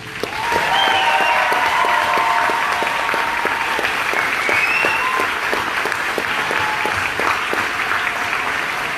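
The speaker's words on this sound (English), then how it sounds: "let's join in another round of applause for these great soldiers" A large crowd applauds soldiers of a returning military intelligence brigade at a homecoming ceremony, steady loud clapping sustained for several seconds with faint whistles rising above it.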